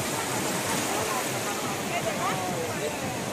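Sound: sea waves at the beach

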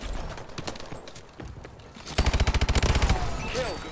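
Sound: gunfire in the video game Call of Duty

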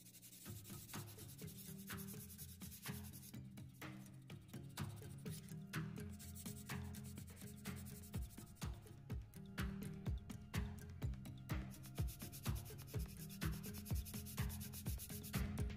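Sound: sanding block on plastic model

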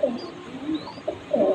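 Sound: pet pigeon cooing

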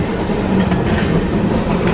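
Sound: long freight train passing on the Canadian prairies

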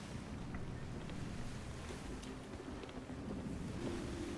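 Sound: wind and ocean waves at sea in Sea of Thieves video game

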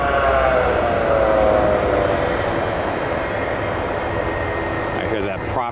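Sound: aircraft engines revving up

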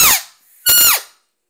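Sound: open reed elk call blown with too much lip pressure

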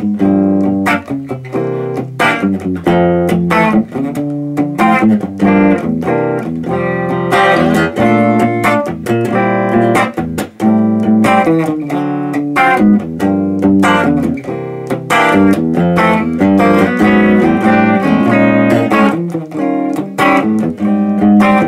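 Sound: electric guitar clean tone chords

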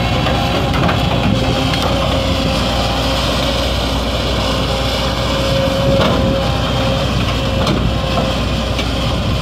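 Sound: construction machine engine running quietly

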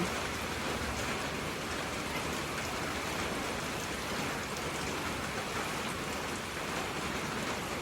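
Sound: rain falling

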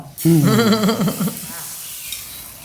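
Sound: coconut milk boiling in a pot for chili paste

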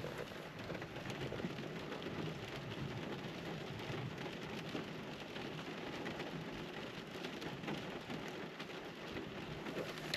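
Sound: rain falling

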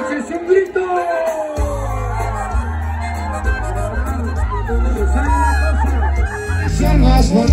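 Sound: crowd shout at concert

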